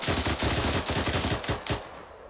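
Automatic gunfire in the military shooter ArmA 3, a rapid string of sharp, close shots firing in a steady rhythm, then a few last bursts before trailing off into quieter background.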